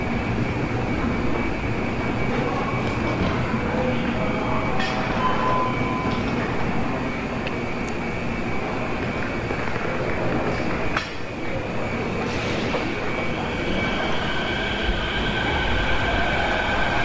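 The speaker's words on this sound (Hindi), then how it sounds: "बस ये ट्रैक पे ये ट्रेन चलती रहती है।" An airport transfer train at Busan airport runs along its track with a continuous rolling rumble and hum, steady and fairly close, with faint higher squeals and tones now and then and no clear speech.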